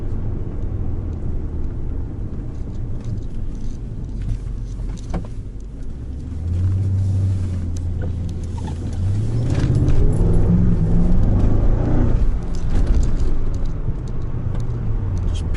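A deep, rumbling V8 burble from inside a moving Mercedes E55, swelling louder partway through as the car accelerates, with road noise underneath.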